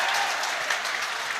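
Large crowd of about 3,000 spectators at a world handball championship men's final applauding and cheering, a steady dense wash of clapping throughout the short moment.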